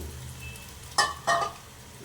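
Four tomatoes go into a hot pan for chole curry, giving two short bursts of sizzling over a quiet cooking hiss.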